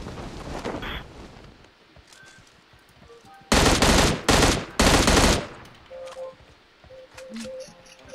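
Automatic gunfire in PUBG Mobile, three loud sustained bursts of rapid shots in the middle, with quieter game sounds, footsteps and faint distant shots before and after.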